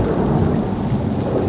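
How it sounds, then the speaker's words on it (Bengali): Heavy rain pours down steadily with a deep, continuous rumble of thunder, loud and close, with no voices. "বৃষ্টি কি এখনো তীব্র?"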